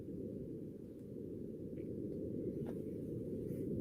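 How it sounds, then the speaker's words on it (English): Wind on Mars captured by the Perseverance rover's microphone, heard as a steady low rumbling roar that is muffled and continuous, with no talk. "This is the sound of Mars wind recorded by the Perseverance rover"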